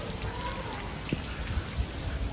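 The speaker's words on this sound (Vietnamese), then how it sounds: "vẫn tiếp tục mưa" Heavy rain pours on Phu Quoc island, a dense continuous hiss of drops striking surfaces with a few faint low thumps underneath.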